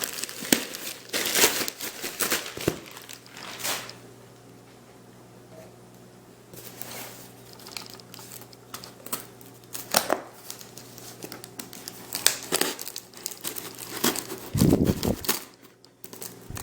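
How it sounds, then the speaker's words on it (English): Knife or blade cutting open a cardboard package box shipped from Ukraine, heard as scattered scraping, crinkling and tearing bursts with quieter pauses between, close and fairly soft. "might have to cut here depending on what's written on this box"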